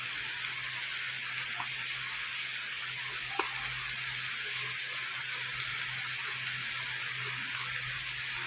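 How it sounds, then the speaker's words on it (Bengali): Onion, ginger, garlic and green chili frying in a pan with turmeric for a rui fish curry: a soft, steady sizzle that continues evenly throughout at low volume. "পেঁয়াজ আদা রসুন আর কাঁচা লঙ্কাটা আমার একটু কিছুটা ভাজা হয়ে গেছে,"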